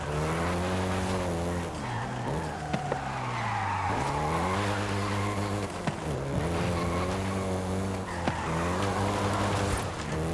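A Volkswagen Golf GTI races in the Forza Horizon 5 video game, its engine revving steadily through rising and falling gear changes with tire squeal, loud and continuous with no talk over it.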